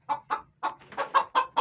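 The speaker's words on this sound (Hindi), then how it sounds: "ये बैंटम मुर्गे जो हैं ये 2 ये बच गए हैं।" Bantam chickens cluck in a short run of about eight sharp, evenly spaced calls, close and clear with no talking, on a flood-hit bird farm in Pakistan.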